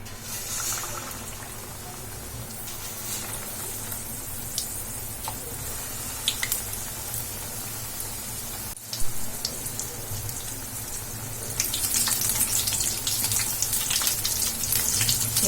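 Battered egg chili bajji sizzles in hot oil in a steady, close hiss with soft crackles and bubbling, growing louder and busier toward the end; no one speaks.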